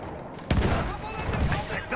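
Battlefield 1 gunfire in a fortress battle: a sharp, loud shot bursts in halfway through, followed by rough, continuing battle noise, with someone talking over it.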